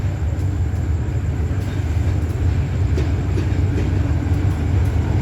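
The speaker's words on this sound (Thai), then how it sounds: "ใช้เป็นรถจักร GA ครับ General Electric หมายเลข 4537 ทำขบวนมาครับผม" Thai express train No. 84 hauled by a General Electric diesel locomotive, number 4537, rolling through a station; a loud, continuous low rumble of wheels and carriages passing close by, with no talk.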